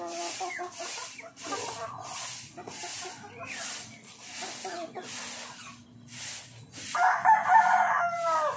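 Roosters crow repeatedly and chickens cluck nearby during a coop cleaning, the calls coming in regular bursts that grow louder toward the end.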